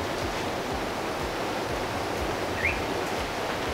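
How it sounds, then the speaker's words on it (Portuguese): Rough sea waves break along the coast at Saint John in light rain during tropical storm season. They make a continuous broadband roar with faint low surges, and there are no voices. "as ondas estão um pouco mais agitadas,"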